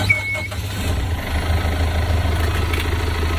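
A motorboat engine fires up and settles into a steady, loud idle with a deep, continuous rumble close by.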